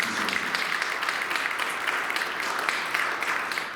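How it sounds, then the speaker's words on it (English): Steady applause fills a hall at the Rock County Arts Hall of Fame induction ceremony in 2023, the audience clapping evenly without a break and with no voices. "Give her a round of applause"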